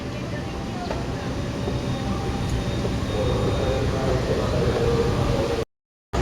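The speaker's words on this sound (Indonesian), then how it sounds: "Dan ini situasi terkini dari stasiun Bekasi. Ini kereta api Sembrani." The Sembrani passenger train rumbles through Bekasi station, a steady heavy roll of wheels and carriages with faint squeals, close and loud, before a sudden short cutout near the end.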